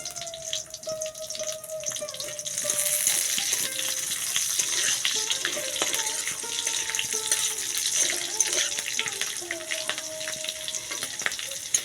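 Green chilies, five-spice and whole cumin seeds sizzle and crackle steadily in hot oil, a close, continuous frying hiss with faint stirring and clinks, no voices over it.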